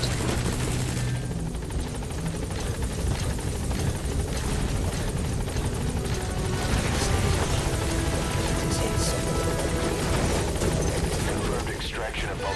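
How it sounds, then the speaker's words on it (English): A support helicopter's rotor in Metal Gear Solid V: The Phantom Pain roars steadily and loudly throughout, a dense whirring wash, with a voice speaking briefly over it. "Support helicopter has arrived."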